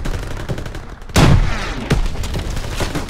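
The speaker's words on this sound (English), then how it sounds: "MGs, open fire." Machine guns open fire in a Call of Duty WWII battle: after a quiet moment, a sudden heavy burst erupts, followed by further shots and a rolling clatter of gunfire.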